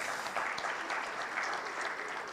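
A brief, fairly soft burst of audience clapping greets startup founder Ebtihel Hajmbark at an entrepreneurs' pitch event in Tunisia, steady and unbroken for a couple of seconds.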